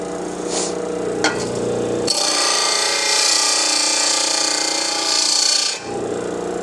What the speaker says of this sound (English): I have my grinder over here, and I'll just start taking off a little bit